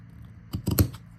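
Scissors snip through a soft paper napkin being cut to shape for a handmade envelope, a short cluster of three or four quick, close cuts in an otherwise quiet room.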